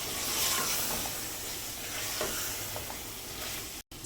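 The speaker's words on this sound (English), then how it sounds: "Stir-fry the mutton with the dry powders for 3 to 4 minutes" Mutton stir-fries with dry spice powders in a hot pan, a steady close sizzle with soft scraping stirs throughout and no talk.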